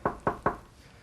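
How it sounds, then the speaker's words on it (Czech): Three sharp knocks on a door in quick, even succession, close and fairly loud, then quiet room tone; no voices. "Klepeme na dveře."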